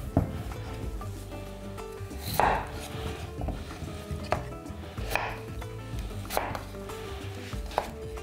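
A knife chops potatoes against a board in irregular sharp knocks, several distinct close strikes spread across the span with a faint kitchen hum underneath.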